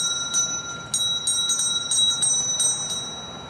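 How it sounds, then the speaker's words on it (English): A bell chimes faintly and distantly in a series of light, repeated strikes over a quiet hiss, the tones thin and far away. "The bell sounded faint and far away in some remote hollow depths."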